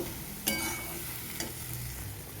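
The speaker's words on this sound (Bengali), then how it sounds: "এবারে আরও বেশ কিছুক্ষণ কষিয়ে নেব" Tomato sizzles in a pan of banana stem curry with mung dal, with two distinct scraping strokes of a stirring spoon over a steady close frying hiss.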